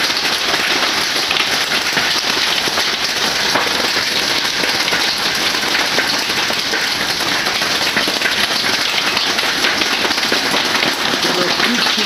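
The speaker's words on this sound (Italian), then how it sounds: "Sono picchi di grandine sopra l'acciaio del treno." Dense, steady pelting of hailstones drumming on a train's steel roof, loud and continuous with no letup, hammering overhead.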